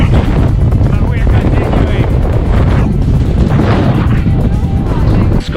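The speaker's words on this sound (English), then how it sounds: "It's a little bit windy and quite chilly" Strong wind buffeting the microphone on the chilly, exposed slopes of Ben Nevis, a loud continuous roar and rumble with gusty surges, close and overwhelming, with a voice speaking through it.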